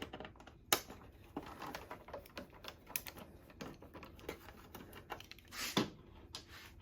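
Screws come out of the back panel of an Epson L1800 printer as scattered, quiet clicks and small ticks at an irregular pace, close by and with no talk.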